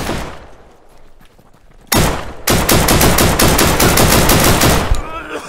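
Automatic gunfire in the video game Deadside, loud bursts of rapid shots that begin abruptly after a quieter stretch and continue densely for several seconds, close and sharp.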